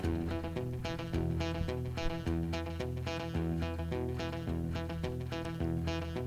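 Electric guitar playing a lick from a solo at full speed, a steady, even run of plucked notes with light palm muting on the bridge, continuous and fairly loud with no talk.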